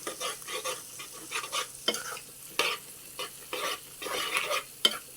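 A spoon stirs eggplant curry in a frying pan in repeated scraping strokes, each a short rasp over a low sizzle, close and moderately loud.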